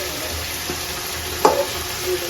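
Chicken pieces sauté in a pan while being cooked down for a chicken roast, giving a low, steady sizzle with a single sharp stirring scrape near the middle.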